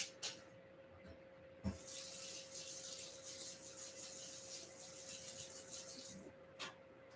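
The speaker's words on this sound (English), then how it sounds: "Oh, I'm gonna wash this brush off." Water from a tap runs steadily while a paint brush is rinsed under it, a close hissing splash lasting several seconds with a few sharp knocks at the start and end.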